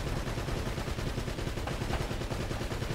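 Sustained turret machine gun fire in Uncharted: Drake's Fortune, a dense, continuous stream of rapid shots that stays loud and steady throughout, with no voices over it.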